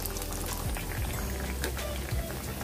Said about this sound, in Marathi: आज आपण डीप फ्राय करणार आहोत